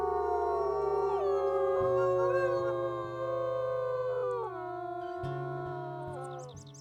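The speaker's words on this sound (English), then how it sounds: "And Soul leading the howl in Mourn" Several wolves in the WolfQuest video game howl together in mourning, long sustained wavering tones layered in harmony, loud and close, with pitches shifting and a final rise near the end.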